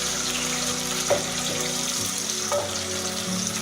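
Omena, small fish, frying in a hot sufuria over moderate fire, giving a steady close sizzle with faint watery bubbling and a couple of light clinks.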